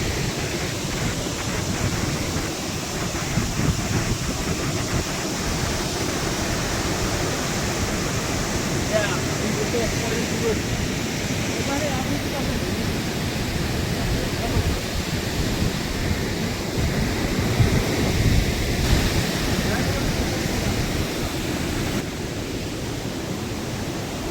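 Thoseghar waterfall in Satara roars as a steady, dense rush of falling water, loud and unbroken throughout, with wind buffeting the microphone.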